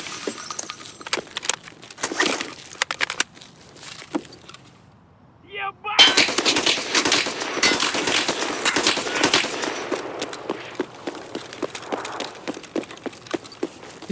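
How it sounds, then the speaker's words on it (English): Gunfire in a shooter video game, played through the Streets map: loud bursts of rapid shots, a brief near-silent gap, then a dense, sustained stretch of firing and clatter. "He's shooting at me through the wall."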